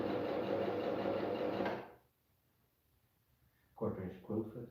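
A sewing machine fitted with a quarter-inch quilting foot stitches a quilt in a steady close whirring run that stops abruptly, followed by brief talk.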